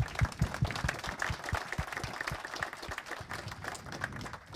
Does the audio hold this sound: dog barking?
no